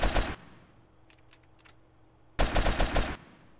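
Enemy gunfire in GTA San Andreas: a loud, rapid burst of shots opens the moment, a quieter gap with faint clicks follows, then a second sharp volley of several rapid cracks, with no talk.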